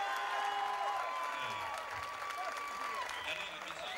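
Audience applause and crowd noise in a hall for a female kickboxing champion at a 2006 WAKO Pro full contact world title event, steady clapping and cheering throughout with an announcer's voice over it.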